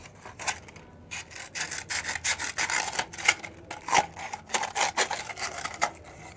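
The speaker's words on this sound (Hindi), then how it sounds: "आप देखिए कि मैं किस तरीके से मैग्नीशियम रिबन को रेगमाल से रगड़ रही हूँ।" Magnesium ribbon is rubbed against sandpaper in quick back-and-forth strokes, giving a close, fairly loud rasping scratch that repeats in an uneven rhythm with brief pauses between bursts.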